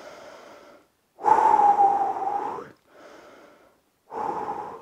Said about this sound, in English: take a little breather, breathe a little bit